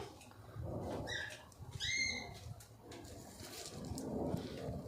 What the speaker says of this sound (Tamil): லக்கியம்மா வேற சவுண்டு விட்டுக்கிட்டே இருக்கிறாங்க, கூண்டை விட்டு வெளியில் வரணும் அப்படின்ட்டு